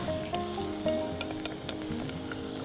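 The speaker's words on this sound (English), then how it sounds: "Cook until the potatoes are cooked." Potatoes and chilies sizzling in a frying pan for a fenugreek potato sabji, a dense continuous crackle and hiss close up, with a few brief scrapes of stirring and no talk.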